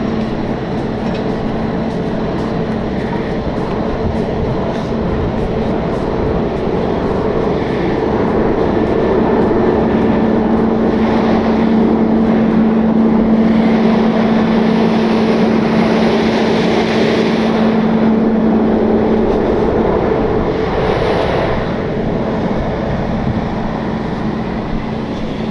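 Loud, continuous engine roar of a truck pulling out an 80,000 pound truck stuck in mud, with a low drone that swells in the middle and settles again, with no talk over it.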